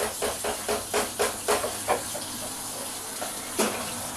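Water poured into a simmering shrimp gumbo sauce on a stove turned down to low gives a steady hiss and sizzle, with a run of soft rhythmic bursts near the start and a brief louder surge near the end.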